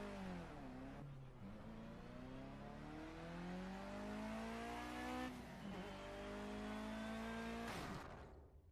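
Mitsubishi car in the Project CARS racing game during a simulated crash test, with a continuous engine whine rising and falling in pitch, abrupt shifts and a harsh burst near the end.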